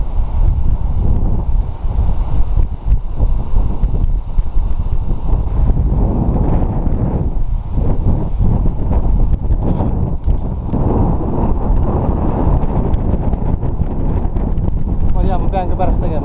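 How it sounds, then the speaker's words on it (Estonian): Strong wind buffets the microphone in a steady roar outdoors, with no break across the whole stretch. "Tuul on jah reige, ma tean."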